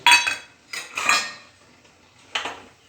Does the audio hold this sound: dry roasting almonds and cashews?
yes